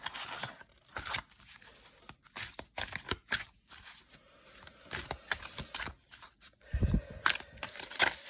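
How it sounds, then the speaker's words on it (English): Oracle cards from an Earthcraft Oracle deck are shuffled and drawn, making close, soft papery riffles and flicks in short irregular bursts with brief pauses. "let's pull our last card with the Earthcraft Oracle"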